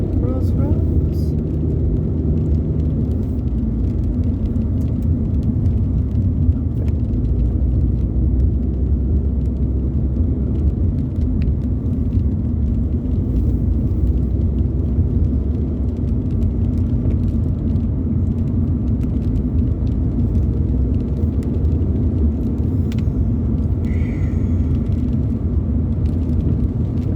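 Car driving through countryside on a rainy day: a steady, loud low rumble of engine and road noise running unbroken throughout, close and constant.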